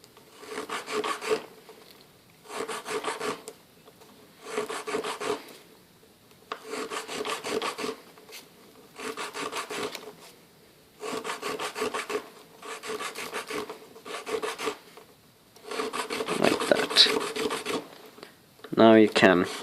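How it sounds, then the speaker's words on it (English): A hand file is worked steadily over a piece while paper cartridges are being made, giving about eight even, rasping strokes in a regular rhythm, close up and clear. "put it nicely there and start filing"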